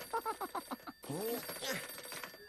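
A cartoon telephone rings in quick repeated bursts, then a cartoon character's voice speaks over a faint ring in the background.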